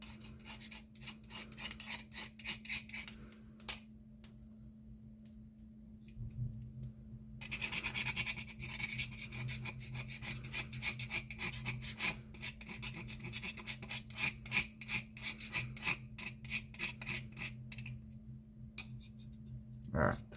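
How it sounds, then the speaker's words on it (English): A multi-tool scrapes a powdery mixture out of a mortar, giving a steady close rasping and scratching that runs almost continuously, with short pauses and a brief lull early on. "you can just swap your multi-tool to some kind of thing that's going to help you scrape it out."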